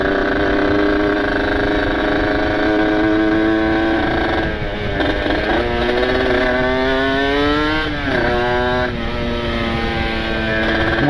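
A motorcycle with a ported engine and aftermarket exhaust runs loud and close, a rough steady idle broken by sharp revs that climb and fall twice.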